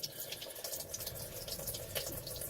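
Pressure hisses and trickles out of a Cruisair HVAC chiller on a 50-foot Prestige yacht, draining into the bilge as a steady, close, watery rush with small splashes and no talking.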